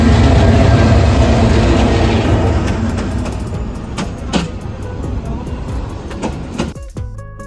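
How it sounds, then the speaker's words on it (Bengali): A train pulling into a railway station on a journey toward Chattogram, a loud rumbling roar that slowly fades, with clanks, rattles and a brief squeal near the end. "দেখা যাচ্ছে ট্রেন চলে আসতেছে তো আমরা ট্রেনের জন্য অপেক্ষা করতেছি"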